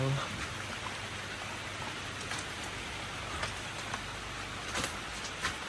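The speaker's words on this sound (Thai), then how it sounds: "ฝนตกด้วยนะตอนเนี้ย" Steady rain pattering on an old wooden house, a continuous broadband hiss with faint scattered drops throughout.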